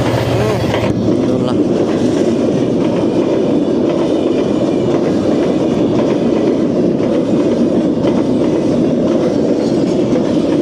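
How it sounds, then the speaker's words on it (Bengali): A train rumbles past close by, steady and loud, with rhythmic clickety-clack of wheels over rail joints throughout. "আমরা ট্রেনের জন্য দাঁড়াইছি এই ট্রেন"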